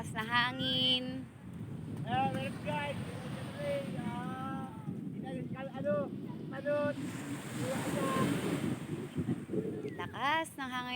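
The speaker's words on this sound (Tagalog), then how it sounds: "Lakas ng hangin, pati ng alon dito." Strong wind buffets the microphone over the steady wash of sea waves, with people talking throughout.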